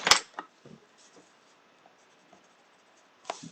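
Soft scratchy strokes of a colored pencil on paper, with a sharp tap at the start and a few light scribbles in an otherwise quiet room.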